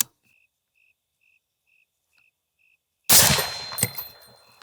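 A precision .308 rifle fires once at a target: a loud, sharp crack with a reverberant tail, preceded by a run of faint, evenly spaced electronic beeps.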